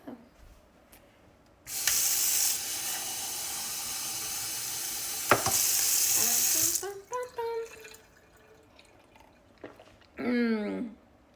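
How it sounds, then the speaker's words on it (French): Water runs from a tap into a drinking glass in a steady hissing stream for about five seconds, with a brief clink, followed by short bursts and a rising fill sound. "Ça va me rendre heureuse de me prendre un verre d'eau."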